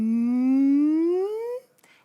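A single rising, wailing whale-like call with strong harmonics, slowly sliding upward in pitch for about a second and a half before cutting off, close and clear, probably a person imitating a whale.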